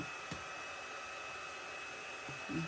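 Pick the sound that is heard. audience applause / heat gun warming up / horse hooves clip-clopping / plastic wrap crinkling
heat gun warming up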